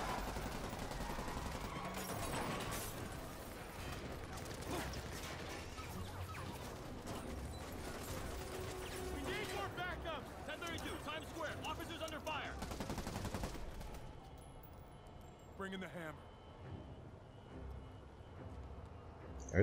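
Gunfire in the Marvel's Spider-Man PS4 video game rattles in dense, rapid bursts for most of the stretch, mixed with game effects and crashes, then thins out to sparser sounds near the end.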